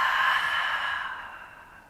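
A long, deep breath pushed out through the mouth during a morning floor exercise, a soft, airy rush that starts strong and fades gradually over about two seconds, heard close.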